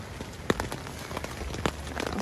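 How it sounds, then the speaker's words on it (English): Rain patters at Poincenot Base Camp below Fitz Roy, a soft, close hiss with scattered sharper drop taps, fairly quiet and with no one speaking. "It's still raining."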